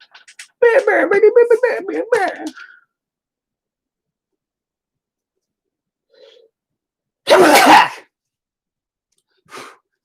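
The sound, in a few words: sneeze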